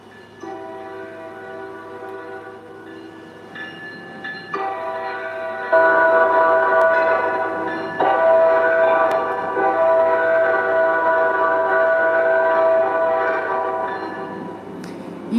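A train in a railway game rolls into the yard, its horn sounding as a sustained, loud harmonic tone that swells midway and holds steady to the end over a low rumble.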